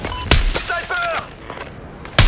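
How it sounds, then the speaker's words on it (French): Enemy machine gun fire in a Warzone battle royale match: a few sharp, close bursts and single cracks separated by gaps, with a voice speaking briefly between shots. "Mitrailleuse ennemie."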